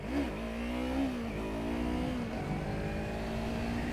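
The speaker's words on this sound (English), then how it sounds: "Baby wheelies in the parking lot." A 2020 Yamaha MT03 motorcycle revs in a parking lot during small wheelies, its engine pitch rising and falling in a few steady surges, moderately close and alone without talk.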